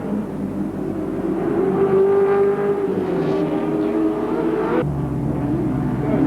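Touring race cars in the 1987 Wellington Nissan/Mobil 500 street race drone past at a distance. Overlapping engine notes rise and fade, with a sharp change near the end as another car passes.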